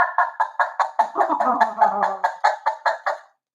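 A string-and-cup noisemaker gives a quick series of rhythmic squawking clucks, about a dozen pulses, close and loud, with a voice briefly underneath.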